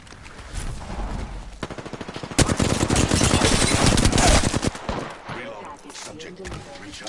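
Loud close gunfire in Apex Legends: scattered shots build into a sustained rapid automatic burst mid-way, then trail off. Voices talk intermittently around the shooting.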